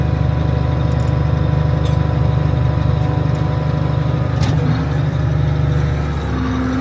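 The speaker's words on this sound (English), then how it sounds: "You guys might be wondering why I'm driving in the tractor." Tractor engine driving on frozen farm ground, a steady close low diesel drone with a brief hiss partway through and a higher tone rising near the end.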